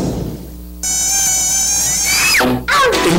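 Insect buzzing like a dengue-carrying mosquito, a steady whining drone with harmonics that shifts pitch and briefly dips near the end, loud and alone.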